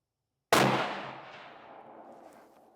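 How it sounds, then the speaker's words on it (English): A single CVA Cascade rifle shot fired at a 200-yard target, one sudden boom followed by a long rolling echo that fades over two seconds, heard outdoors with no voices. "Or take one more shot at that top right"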